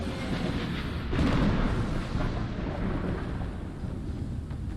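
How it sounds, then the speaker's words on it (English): Thunder rolls through a lightning-storm boss phase in a Conan Exiles dungeon arena: a continuous deep rumble with a louder swelling crack early on, heavy and booming throughout, with no talking. "Phase 2 is a lightning storm that begins to empower the golems found around the arena"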